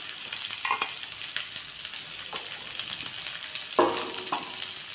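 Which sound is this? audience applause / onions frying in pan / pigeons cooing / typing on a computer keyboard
onions frying in pan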